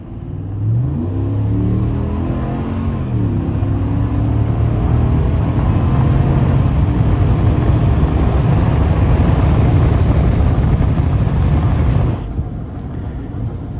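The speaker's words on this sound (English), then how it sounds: "Now, the car sounds really good, but it's obviously not that fast because of everything it has on it" A 2024 Ram 1500 Limited pickup accelerates onto a highway, its engine rising through a gear change into a loud, steady droning roar heard from inside the cab, then easing off near the end.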